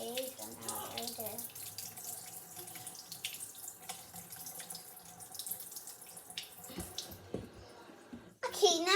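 A tap runs steadily into a sink while a soapy squishy toy is rinsed clean, with the water splashing close by under a child's chatter and a sudden louder burst at the end.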